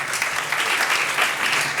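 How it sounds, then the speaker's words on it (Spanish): Audience applause at a Fundación Caja Navarra and Fundación "la Caixa" social innovation event, a brief burst of steady, dense clapping from a seated crowd, with no talking. "Un aplauso para ellos."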